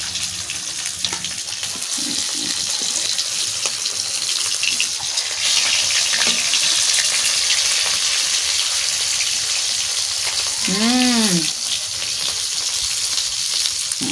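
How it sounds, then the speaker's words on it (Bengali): Fish fries in hot oil, sizzling and crackling loudly throughout, with a brief high whine and some clatter in the background; no one speaks. "ভাজা মাছটা দিই"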